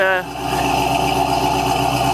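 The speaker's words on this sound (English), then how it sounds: "It's still on the high idle because the engine's still cold." A 1970 Cadillac Eldorado with a carbureted engine holds a high cold-start idle with the choke still on, a loud, steady drone after a brief shift at the start.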